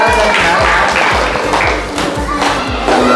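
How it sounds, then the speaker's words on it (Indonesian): Audience at an elementary school event clapping together, a loud sustained wash of applause over a rhythmic thumping music beat, with some voices mixed in. "Tepuk tangan."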